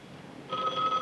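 An old telephone ringing in a small-town gas station, a steady electric bell tone starting abruptly halfway through and holding loud and close to the end.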